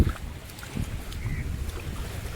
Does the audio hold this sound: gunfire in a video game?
no